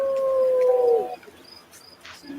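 A person imitates a wolf howl with one sustained, slightly falling voiced tone lasting about a second, followed by quieter room noise.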